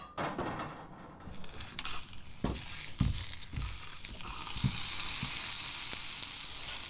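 Garlic sizzles and crackles loudly in a hot pan, with a steady frying hiss and occasional clinks and stirring scrapes close by.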